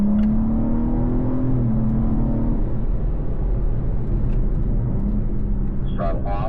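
BMW car on a race track accelerating hard out of the final corner onto the straight, a steady loud engine drone rising in pitch, with a voice talking over it.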